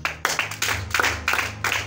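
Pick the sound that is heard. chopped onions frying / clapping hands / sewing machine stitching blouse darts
clapping hands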